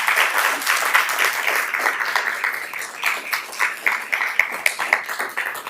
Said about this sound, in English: let's give one more a round of applause for our winners